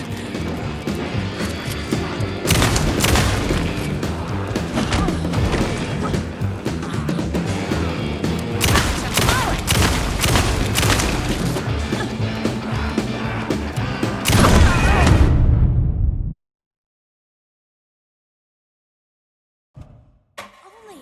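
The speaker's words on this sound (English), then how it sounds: "I can blow things up all day! My gun's hungry." Combat in Alan Wake 2's Night Springs episode, a dense, loud, continuous barrage of gunfire and crashing explosions that cuts off abruptly into near silence, with a few faint sounds near the end.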